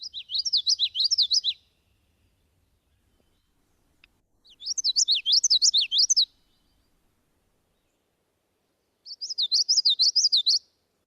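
A recording of a common yellowthroat plays three bursts of its rolling, repeated song phrase, each lasting about two seconds and separated by silence, bright and clear with nothing else behind it.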